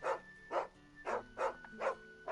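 Dog barking in Final Fantasy 16, five loud, evenly spaced barks over a soft ambient game background, with no talk.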